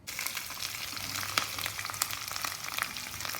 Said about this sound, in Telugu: మనం నూనె వేడవుతుంది, అగ్గి తగ్గించాలి దీనికి లైట్గా.